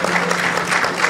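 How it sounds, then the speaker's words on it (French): Audience applause at a closing ceremony, a dense, steady wash of many hands clapping together, loud and close, with faint crowd noise mixed in. "On va l'applaudir jusqu'à ce qu'il monte sur scène"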